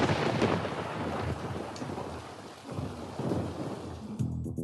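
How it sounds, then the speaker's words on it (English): Steady rain pouring down with a low rumble of thunder beneath it, a dense hiss of drops that continues without voices. "Oh, no. It is raining."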